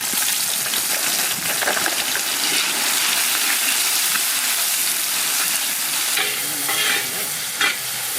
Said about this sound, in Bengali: মাংসের কড়াই চাপিয়েছি, পেঁয়াজ কষানো চলছে